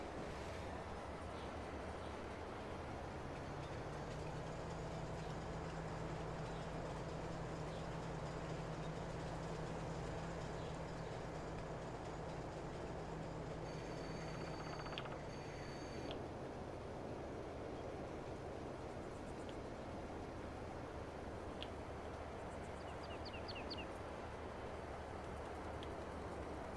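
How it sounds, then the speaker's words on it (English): A freight train in Farming Simulator 22 rolls past with a steady low rumble and wheel drone, and a brief higher horn-like tone rises midway before the passage settles into a continuous background hum. "Hello, train."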